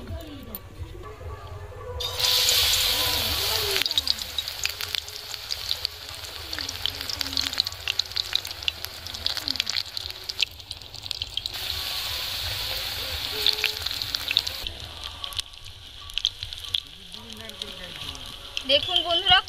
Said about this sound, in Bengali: এবার একটা একটা বেগুন দিয়ে দেব ভাজার জন্য